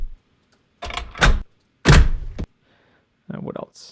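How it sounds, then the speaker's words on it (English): Metal doors from a sound effects collection, a series of separate clanks and thuds, some with short rattling tails and gaps of silence between them, heard close and alone. "metal doors"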